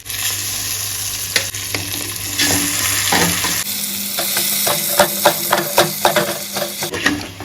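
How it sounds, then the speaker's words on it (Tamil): Boiled blood stir-fried with onions in a hot pan: a loud, steady sizzle with spatula scrapes, then a run of quick rhythmic tapping and stirring strokes, close up. "வேக வச்ச ரத்தத்தை சேர்த்துக்கலாம்."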